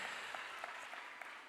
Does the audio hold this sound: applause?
yes